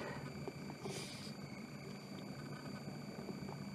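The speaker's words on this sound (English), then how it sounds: "it seems there is a helicopter buzzing out the front of my window" A helicopter buzzes outside a window, a faint and distant low drone with a steady throb that goes on throughout under a quiet room background.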